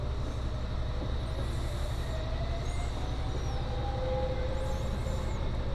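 A Freightliner coal train rumbles past in Train Simulator Classic on the London Underground, a steady loud continuous roar of wheels and engine with faint higher squeals drifting over the constant noise.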